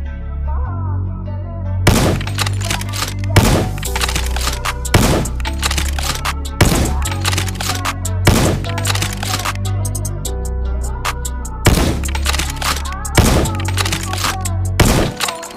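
Sniper rifle shots in the Combat Master shooter game: seven loud, sharp reports spaced about two seconds apart, heard alone over a low steady game ambience.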